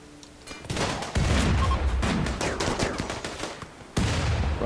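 Sustained gunfire in RimWorld during a sapper raid, dense overlapping rifle bursts and rapid shots forming a loud continuous fusillade with sharp surges near the start and end.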